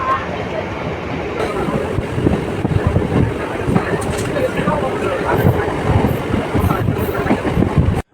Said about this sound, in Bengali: এখন আমাদের ট্রেন ঢুকছে দাসকলগ্রাম।